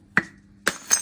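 A glass orchid flask being struck hard until it shatters: three sharp, separate glassy cracks and clinks, close and bright, with short silences between them.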